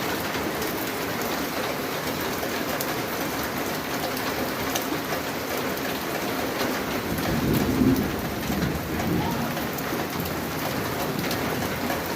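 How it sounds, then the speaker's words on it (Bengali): Heavy rain falls steadily in Manikganj during a downpour after a hot spell, a dense continuous roar of drops on surfaces with low rumbling beneath and a brief swell near the middle, with no voices. "এখন প্রচুর পরিমাণ বৃষ্টি দিছে দেখতেই পারতেছেন"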